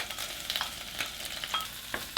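Prawn heads sizzle and crackle steadily as they fry in hot oil, with occasional scraping stirs and small pops, close up and with no talking.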